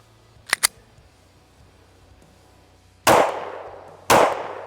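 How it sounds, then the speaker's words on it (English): Two sharp, loud pistol shots from a Shadow Systems CR920 ring out about a second apart, close by, each with a ringing decay. They follow an earlier pair of quick metallic clicks. "let's shoot another mag through each of these just to confirm that"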